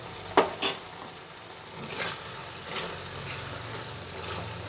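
Mung dal cooks in a pan after a spoonful of ghee is added, giving a faint steady sizzle with a few sharp spoon-and-pan clinks near the start and soft stirring scrapes after.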